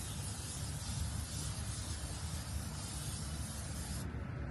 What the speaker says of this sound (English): I'm basically spray painting the entire cooking vessel of my smoker.